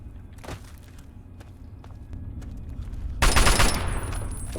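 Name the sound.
gunfire from a gun in Fallout 3 video game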